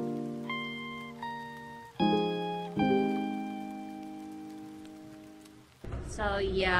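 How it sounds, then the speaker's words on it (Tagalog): Steady rain falls on a surface during the Christmas season, a soft broadband hiss beneath several ringing, sustained musical tones, with a louder wash of rain noise in the last second. "It's really rainy right now."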